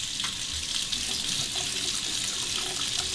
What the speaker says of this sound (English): I'm going to warm up the razor under the hot water.